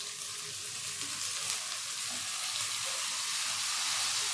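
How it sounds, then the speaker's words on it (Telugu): Ginger garlic paste frying in a pan gives a continuous, dense hiss and crackle that holds steady and close throughout, with no other sounds over it. "అల్లం తెల్లగడ్డ పేస్ట్ బాగా వేగింది"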